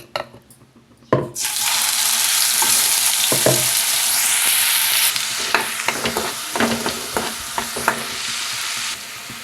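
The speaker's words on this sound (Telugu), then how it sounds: "పాన్ హీట్ అయింది ఆయిల్ వేసుకుంటున్నాను ఇప్పుడు చేసి పెట్టుకున్న మసాలా పేస్ట్ వేసేద్దాం" Masala paste dropped into hot oil in a pan, bursting into a loud, steady sizzle after a quiet start, with intermittent spatula scrapes and knocks.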